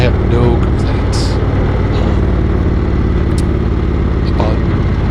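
The Thunderstroke 111 engine of an Indian Roadmaster motorcycle rumbles loud and steady, a deep continuous drone with constant wind rush while riding canyon roads near Red Rocks, Colorado.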